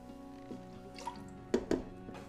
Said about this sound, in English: Just kind of whisk it a little bit together and then pour it into the inner pot of